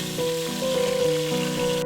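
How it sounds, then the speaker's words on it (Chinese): Beef browning for boeuf bourguignon crackles in smoking-hot oil in a pan, a brief, steady close sizzle with no voices. "等油热的开始冒烟，下入牛肉"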